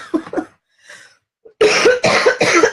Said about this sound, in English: Sorry, I don't mean to cough so loud.